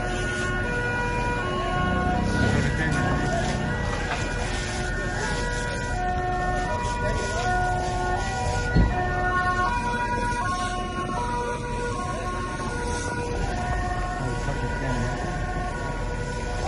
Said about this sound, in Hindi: इस वीडियो में आपने जो सायरन की आवाज सुनी है उसे एयर रेड वार्निंग सायरन कहा जाता है